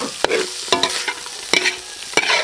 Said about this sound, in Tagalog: Halu-haluin po para sa po sila